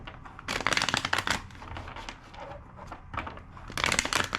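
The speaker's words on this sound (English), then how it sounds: "2 more shuffles." A deck of tarot cards shuffled by hand in two bursts of rapid riffling and flapping, close and crisp, separated by a short quieter pause.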